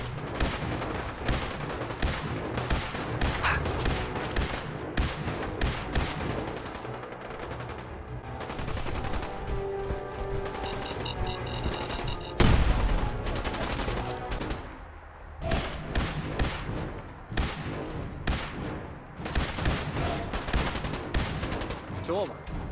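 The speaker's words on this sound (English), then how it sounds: "so I start firing." Sustained gunfire in Fallout 4 survival mode, rapid automatic bursts and single shots crackling almost nonstop, loud and dense, with a brief pause and a heavy impact near the middle.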